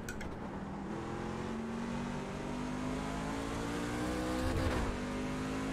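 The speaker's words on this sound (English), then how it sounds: "I'm just gonna downshift in these corners" Race truck engine in an iRacing Gander Outdoors Truck Series race at Martinsville short track, droning steadily loud with shifting revs as it downshifts through corners, pitch rising and falling, no talk.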